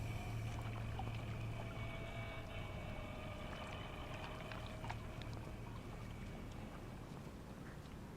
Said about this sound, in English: I hear the water gurgles.